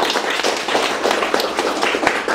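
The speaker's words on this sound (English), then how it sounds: "applause right now" Audience applause for a guest speaker at a design talk event, a steady dense wash of clapping from many hands filling the room without pause.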